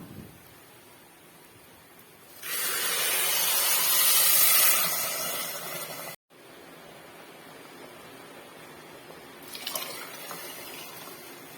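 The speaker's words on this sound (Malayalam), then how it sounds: "ഇനി നമുക്ക് തിളപ്പിച്ച് മാറ്റി വെച്ച വെള്ളം ഇതിലേക്ക് ഒഴിച്ചു കൊടുക്കാം" Boiled water pours into a pot of vegetable biryani from a pressure cooker recipe, a loud broad gush lasting a few seconds after a quiet start, followed by a calm stretch with faint kitchen noise.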